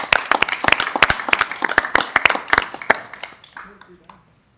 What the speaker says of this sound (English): we gotta give it another round of applause